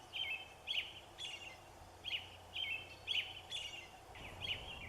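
Several songbirds chirp and sing in short, repeated bursts of high, bright notes, fairly close, with no talking.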